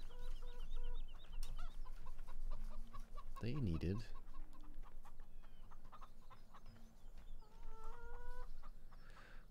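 Chickens in Farming Simulator 17 cluck repeatedly and rather faintly over a low background hum, with a brief sharp squawk partway through and someone speaking now and then.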